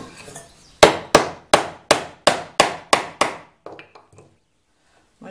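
A mortise chisel is struck repeatedly to cut a hole in wood, giving about seven sharp, evenly spaced knocks, loud and close, followed by a few softer taps that fade out.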